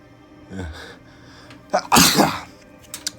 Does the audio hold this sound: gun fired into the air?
no